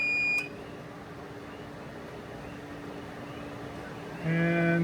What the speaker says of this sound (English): is the alarm for the chiller.